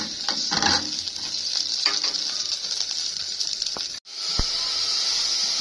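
Bay leaf, cardamom and cinnamon sizzling in hot ghee, a steady loud hiss with faint stirring scrapes, briefly cutting out before the sizzle resumes.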